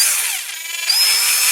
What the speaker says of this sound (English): So this is me drilling the rivet posts out.